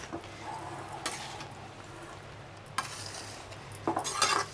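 Spicy mango pickle being stirred with masala in a pot, a spoon scraping and clinking in a few separate bursts over a steady low background hum, with no voices.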